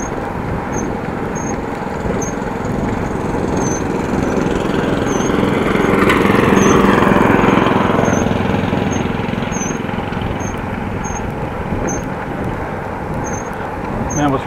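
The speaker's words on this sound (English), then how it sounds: "Man was mowing his lawn with a sit mower, a little tractor." Ride-on lawn mower, a small sit-on tractor, cutting a lawn in a village near Appingedam, Netherlands: a steady engine drone that swells as it passes close and then eases off, with a high intermittent squeak.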